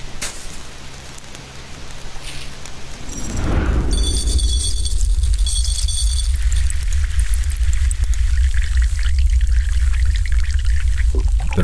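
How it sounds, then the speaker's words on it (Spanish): Salt poured into a pot of boiling water, a loud, continuous rushing hiss and seething bubble that swells after about three seconds and stays dense and steady to the end, with no voices. "Probablemente no sabías que el agua hirviendo y la sal podían ser tan hipnotizantes."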